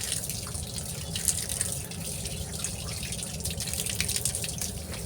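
Fresh fish being washed under running water, a steady close splashing and trickling stream that stays even throughout with no voices.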